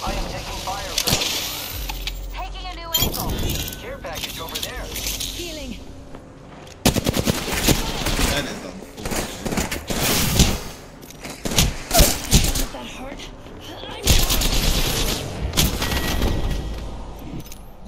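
Rapid automatic gunfire and bursts of shots in the battle royale game Apex Legends, loud and close, with repeated volleys, thuds and game effects throughout.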